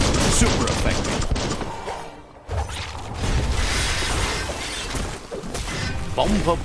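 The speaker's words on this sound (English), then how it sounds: "Bomber Bonker's busy ram-banging the door." Heavy repeated banging and crashing as Bomber Bonker rams a door in the video game Biomutant, a loud, dense run of impacts with a short pause partway through, mixed with other game noise.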